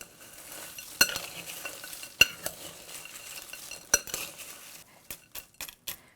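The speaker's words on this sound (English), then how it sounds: "Give it a nice toss." Coconut sesame granola with fruits and nuts being tossed in a bowl, producing soft rustling stirs punctuated by several sharp clinks of utensils against the bowl, fairly close and without talk.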